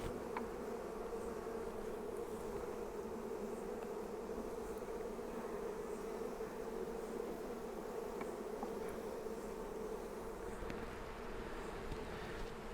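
Honey bees buzz in a dense, continuous drone while a nuc is installed into a hive, the swarm close and steady throughout with a few louder individual bees passing near.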